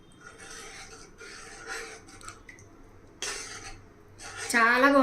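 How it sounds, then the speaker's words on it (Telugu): A spoon scrapes and clinks against a metal pot while cooked toor dal is stirred into drumstick stew, in irregular bursts with soft breathing and a brief sizzle near the end. "ఈ పప్పును వేసేసుకోవాలి పప్పు వేసిన తర్వాత బాగా కలపాలి"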